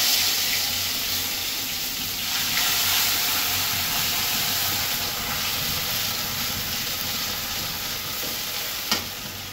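Onion paste, green chili and black mustard seeds sizzle steadily in hot oil for a mustard hilsa curry, with stirring scrapes and a sharp clatter near the end; no voices.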